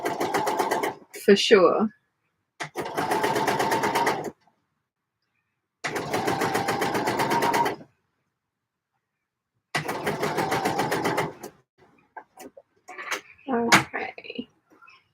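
A sewing machine stitches a dart on a dress in several steady whirring runs of about two seconds each, separated by silences, with brief handling noises and a short spoken remark near the start.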